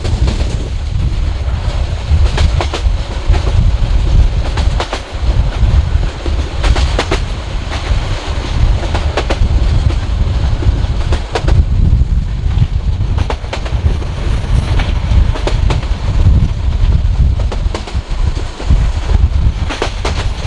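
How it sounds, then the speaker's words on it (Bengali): A fast-moving train heard from inside a carriage gives a loud, continuous rumble with rhythmic clickety-clack of wheels on the rails and buffeting wind noise throughout. "দেখতে পাচ্ছেন ট্রেন কত জোরে যাচ্ছে"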